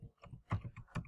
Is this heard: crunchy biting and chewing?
no